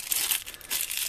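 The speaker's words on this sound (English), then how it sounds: "So open the plastic bag and be careful that it doesn't fall down here." A plastic bag holding Lego pieces is crinkled open with a burst of loud, close crackling and rustling, a brief dip, then more crinkling.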